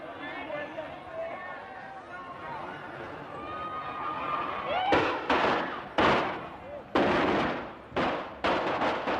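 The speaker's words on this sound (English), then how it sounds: "What sounded like shots turned out to be Chinese firecrackers." Chinese firecrackers go off in a series of sharp, loud bangs that sound like gunshots, roughly one per second after a stretch of crowd chatter and whistling, with excited voices continuing between the blasts.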